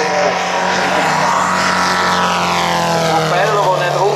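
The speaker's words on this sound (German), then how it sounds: "Der Propeller, der nicht drauf hat, hat einen Meter Durchmesser. Also unheimlich leistungsfähiger Motor." A powerful aircraft engine turning a one-metre propeller drones loudly and steadily at the 2010 event in Hausen am Albis, its pitch sweeping as it passes close by.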